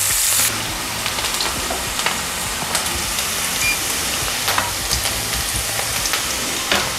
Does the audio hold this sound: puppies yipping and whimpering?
no